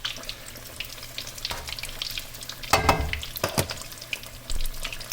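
Battered cod and pollock deep frying in oil in a heavy pot, a steady soft crackle and fizz with brief louder sputters and bursts of bubbling, close by with no talking.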